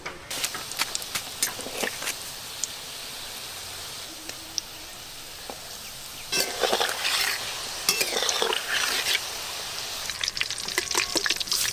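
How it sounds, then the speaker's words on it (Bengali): Rohu fish fingers deep frying in hot oil, a steady crackling sizzle with occasional stirring clinks and louder bursts of bubbling partway through, close and continuous with no talk. "খুব সুন্দরভাবে ফিশ ফিঙ্গার ভাজা হয়ে গেছে।"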